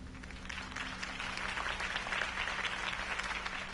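Crowd applause after a campaign speech for Harvey Dent in Batman: The Telltale Series, a sustained, even wash of many hands clapping at low level under a faint steady hum.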